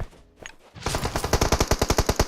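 Gunfire in PUBG Mobile: a single shot, then a rapid automatic burst of about a dozen evenly spaced cracks, loud and close.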